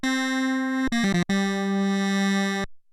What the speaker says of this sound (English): it's producing this weird sort of like phasing type sound